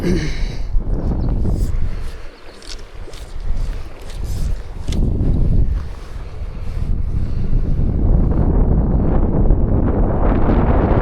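Wind gusting across a microphone beside a trout river during fly fishing, a steady broadband roar that swells and dips, with a quieter lull near the middle before building again to a constant buffet.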